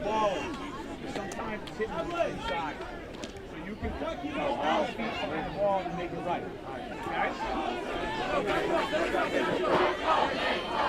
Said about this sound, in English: the crowd is getting back up there, chanting, "Let's go Big Blue."